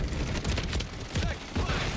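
Gunfire in the video game Call of Duty comes as dense, loud bursts of rapid shots with booming low thuds. The bursts continue without a break for the length of the clip.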